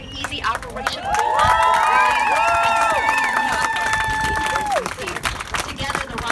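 Spectators cheer in a large crowd gathered outside the Vehicle Assembly Building for the Artemis II SLS rocket rollout, a loud sustained roar with whistle-like tones rising and falling over the din.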